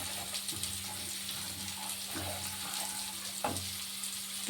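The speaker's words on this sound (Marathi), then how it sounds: "हे चांगलं फ्राय होऊ द्यायचं।" Masala sizzles gently in a pan for matar paneer after a splash of water, a soft steady fry with a steady hum and a few faint clinks of stirring, no voices.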